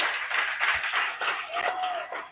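Congregation in a church clapping and cheering in praise, a dense burst of applause with crowd voices mixed in.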